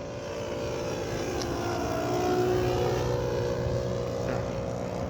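Large radio-controlled PC-9 model airplane powered by an OS .155 engine, flying at an RC airfield in Lopburi, Thailand; a steady, continuous engine drone stays at a fairly constant distance throughout, with no talk.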